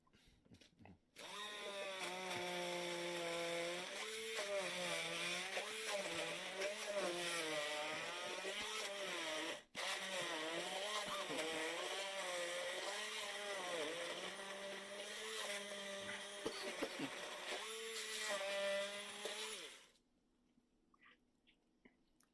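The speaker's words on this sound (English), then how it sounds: "Here's the blender." A kitchen blender whirs steadily for about nineteen seconds with a brief dip midway, its pitch wavering as the contents churn, then stops abruptly into quiet.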